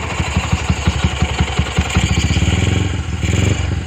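A Yamaha Jupiter MX motorcycle with its carburetor not yet tuned idles close by, its engine beating in a steady, rapid thumping rhythm that quickens slightly and stays loud throughout.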